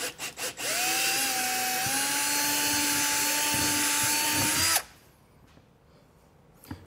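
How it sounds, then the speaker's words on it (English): A power drill fitted with a 19/64 drill bit whines steadily at close range for about four seconds, its pitch holding level, then cuts off abruptly, leaving quiet room noise. "with a 1964 drill bit, that should be big enough for me to drill this out."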